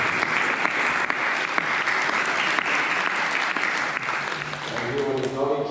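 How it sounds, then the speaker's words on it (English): An audience at a school academic awards ceremony claps steadily and continuously, a dense patter of applause filling the room, with a voice starting to speak as it ends. "we applaud individually for the first 3"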